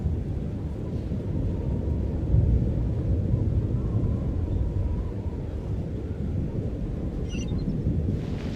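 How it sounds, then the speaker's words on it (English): Stormy weather in the game Genshin Impact, a steady low rumble of wind and thunder filling the whole stretch at an even, loud level, with a brief bright crackle near the end. "What is going on with this storm?"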